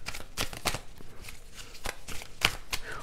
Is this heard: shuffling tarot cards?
yes